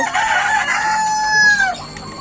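A rooster crows once on a KUB chicken farm, a loud, close, drawn-out call that rises and then falls away, heard alone over faint farm background.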